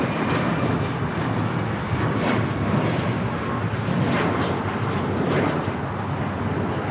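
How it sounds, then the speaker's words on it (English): An Alaska Airlines Boeing 737 MAX 8 takes off from LAX bound for Guatemala City, its engines a loud, steady broadband roar that holds at full strength throughout with no other sounds. "Alaska Airlines 1353 taking off to Guatemala City on the MAX 8"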